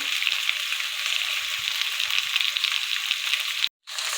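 Okra and potato, aloo bhindi, fry in a pan with a continuous, close hiss of oil, a few faint stirring touches, and a brief cut to near silence just before the end.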